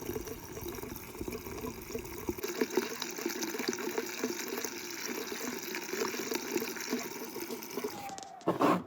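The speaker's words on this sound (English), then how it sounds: "we found a place to park and fill up our fresh water" Water runs steadily from a tap into a campervan's fresh water tank, a continuous close rushing gush with a brief change in flow and a clunk near the end, no talk.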